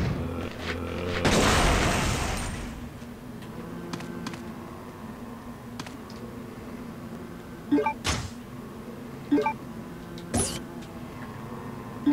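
An explosive canister blows up in Resident Evil Code Veronica, a loud broadband burst of blast noise near the start that fades into low rumble, followed later by several sharp, shorter impact cracks over a quiet game ambience.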